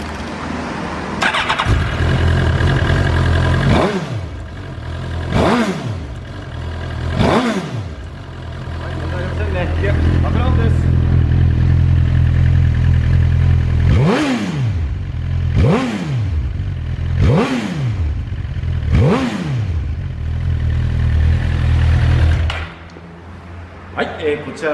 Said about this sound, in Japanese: ではエンジン始動します。